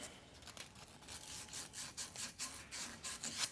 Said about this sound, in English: a little bit of emery cloth, a little bit of fine sandpaper, this 240 grit. And just kind of clean up that bore